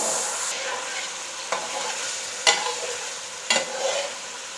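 Chicken and tomatoes frying in a pot, a steady sizzle with a few sharp scrapes and clanks of stirring, close and alone.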